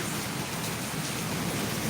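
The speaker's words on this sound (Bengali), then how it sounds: "আমাদের এখানে তো এখন খুবই বৃষ্টি হচ্ছে প্রচণ্ড ঝড়" Dense, steady downpour of storm rain hissing evenly without a break, loud and close, pounding on a balcony and surrounding surfaces.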